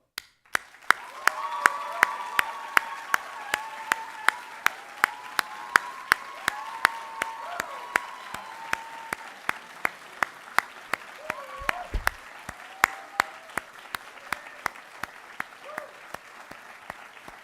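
A steady run of individual claps, like sparse applause, as a standing ovation at a college graduation ceremony, continues throughout while voices talk underneath.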